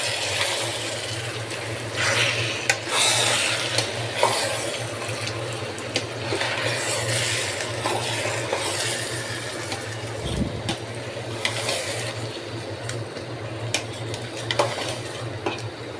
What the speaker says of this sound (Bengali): এখন আমি এটাকে চালের সাথে মিশিয়ে দিব।